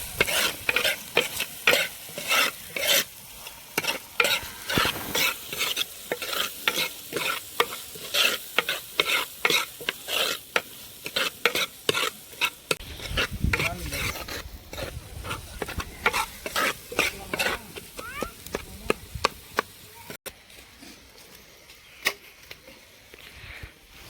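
Onions and tomatoes fry in a pan for a chicken gravy, a constant loud sizzle driven by rapid, rhythmic spatula stirring and scraping that runs nearly throughout, thinning out toward the end.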